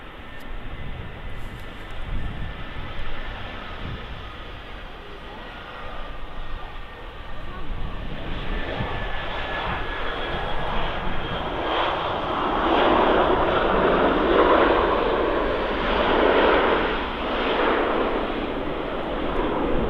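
Aer Lingus airliner arriving at Manchester Airport, its jet engine roar building from a distant drone to a loud, broad rush as it passes nearby, with people chatting in the background.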